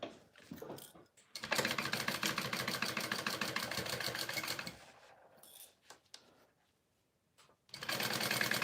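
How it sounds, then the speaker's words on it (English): A sewing machine stitches a seam with a 3/8 inch allowance, running in a steady rapid chatter for several seconds, pausing with faint handling noises, then starting up again. "So I'm going to sew this on with a 3/8 inch seam allowance."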